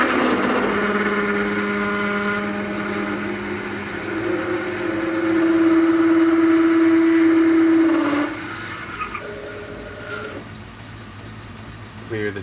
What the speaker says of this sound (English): So we're gonna go ahead and start the lathe.